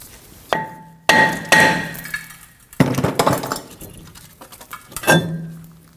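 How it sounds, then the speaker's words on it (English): A hammer strikes the hub surface of a brake rotor on a Ford Edge, with several sharp metallic bangs and ringing clinks spaced irregularly over a few seconds, close and loud. "you can hit with a hammer right on the hub surface of the rotor"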